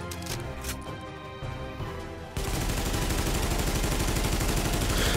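A high-end AK-47 rifle in The Division fires in a steady rapid burst, loud and close, following a quieter stretch with background music.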